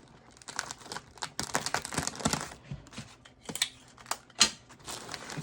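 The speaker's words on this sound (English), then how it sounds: "take a piece of tape and just kind of go around this where I cut it up underneath the flower" Tape peeled and wrapped around a cut opening under a flower on a gift bag, a soft run of crinkling, sticky tearing and rustling with irregular bursts, quiet and close, no talking.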